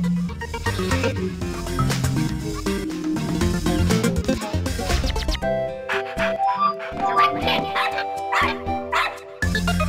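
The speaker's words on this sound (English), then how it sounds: "Cute little Nintendo dogs." Small cartoon dogs bark and yip repeatedly in the WarioWare: Smooth Moves video game, loud and close over busy game music and sound effects.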